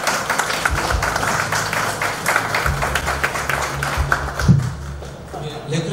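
Audience applause at a 2019 Dalseong industrial complex event in Daegu, a steady, dense patter of clapping from a gathered crowd lasting several seconds before fading near the end.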